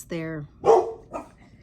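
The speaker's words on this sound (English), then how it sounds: "I'm sorry if you hear my dogs" A few short dog barks and yips come in quick succession, close by, with a voice speaking briefly over them.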